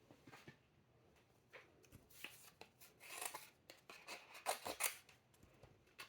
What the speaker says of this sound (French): Prendre mes ciseaux.